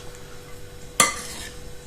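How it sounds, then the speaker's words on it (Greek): A spoon stirs a filling of cheeses, oil and pepper for sourdough fried flatbreads (khachapuri) in a bowl, giving one sharp scraping clink with a short rustle as it trails off, close and alone. "με ένα κουτάλι θα ανακατέψουμε τη γέμιση ώστε να ανακατευτούν τα τυριά, το λάδι και το πιπέρι μας"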